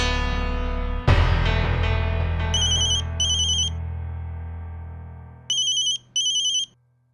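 A landline telephone rings for an incoming call in a Hindi TV drama scene. Two pairs of electronic ring bursts sound clearly over a fading musical tone, each burst a short trilling pulse.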